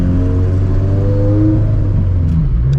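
Project car engine droning at low revs while driving, a loud steady rumble with a slight shift in pitch as it accelerates, heard close from inside the cabin without speech.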